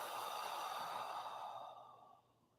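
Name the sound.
deep exhale during breathing exercise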